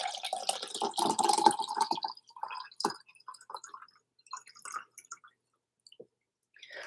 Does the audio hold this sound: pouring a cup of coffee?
yes